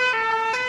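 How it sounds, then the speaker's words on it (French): A cartoon fire truck siren wails in a sustained, bright electronic tone, loud and close, holding steady with a slight rise near the end. "Voici le son que fait le camion de pompiers."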